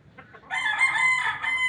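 A rooster crows once, close and loud, after a couple of soft clucks at the start.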